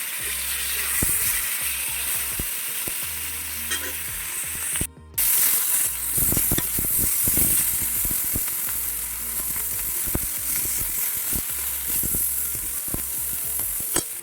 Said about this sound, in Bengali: শুটকি মাছগুলো আমার ভাজা হয়ে গিয়েছে